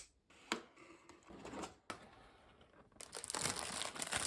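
Packaging for a Corsair K70 RGB Pro gaming keyboard being opened up close: a few sharp cardboard snaps and thumps, then crinkling and tearing that grows louder at the end, with no talking.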